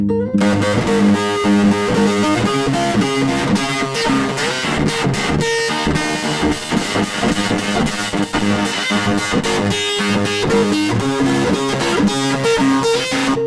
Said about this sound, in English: Next up, we have an Absolute Destruction distortion unit